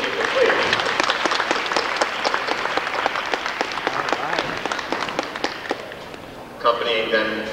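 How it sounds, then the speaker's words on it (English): A senior celebration audience gives a warm round of dense, steady applause that gradually thins out, followed by a brief burst of talk at the end. "Let's have a round of applause for these people, please."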